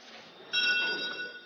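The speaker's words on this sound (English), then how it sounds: "With the sound of a bell, the auction begins." A bell rings out at the Tsukiji fish market to start the snow crab auction, a sustained metallic tone with steady overtones over a hum of market background, moderately loud and somewhat distant.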